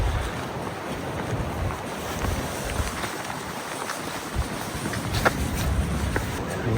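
Steady gusting wind buffets the microphone outdoors in Australia, a dense rushing roar with faint patter of rain, no voices.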